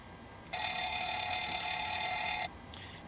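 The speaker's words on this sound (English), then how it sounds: "We're going to check our APU fire alarm as well as engine 1," An APU fire alarm test bell in a PMDG 737-600 flight simulator video game rings steadily for about two seconds, loud and alone, followed by a brief faint tone.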